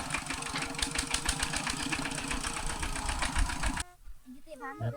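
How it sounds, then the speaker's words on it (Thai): A walking tractor engine chugs steadily and loudly in a rural Lao village, then cuts off abruptly, leaving a quieter moment with a voice speaking in Thai. "ใช้รถไถหน้าทุกคนเลย"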